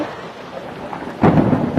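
A thunderstorm breaks with rain beginning to fall outdoors, a quiet rumbling backdrop suddenly swelling into a louder wash of rain and thunder partway through, with no voices.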